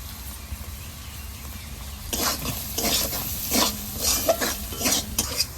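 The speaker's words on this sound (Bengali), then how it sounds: "সব মশলা দিয়ে আলুটা বেশ ভালোভাবে কষানো হয়ে গেছে" Potatoes are fried in a pan with salt, turmeric, cumin powder and chili powder. The start is quiet, then from about two seconds a spoon scrapes and stirs in repeated strokes over a soft sizzle, fairly close.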